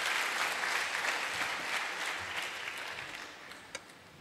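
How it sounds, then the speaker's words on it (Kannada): A church congregation clapping loudly together, dense sustained applause that gradually thins and fades toward the end, with one sharp isolated clap near the close. "ನಿಮಗೆ ಒಂದು ಜೋರಾಗಿ ಚಪ್ಪಾಳೆ ತಟ್ಟಿ."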